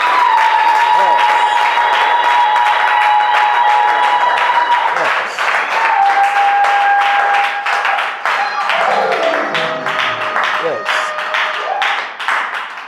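A church congregation applauds its choir with dense, steady clapping and a few cheers, mixed over sustained organ or keyboard tones and voices.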